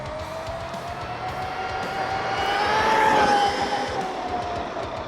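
A stock RC car on a full-throttle speed run: a high-pitched motor whine climbs and peaks as the car passes close by, then trails away, carried over a steady rushing background with no talk.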